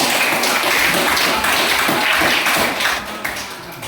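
Students clap in a classroom, a dense burst of applause that stays steady and close for a few seconds before thinning out.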